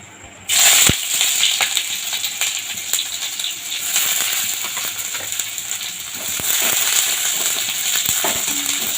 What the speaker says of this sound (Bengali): দেখো আমার তেলটা গরম হয়ে গেছে। প্রথমে আমি এখানে পেঁয়াজ কুচি দেবো।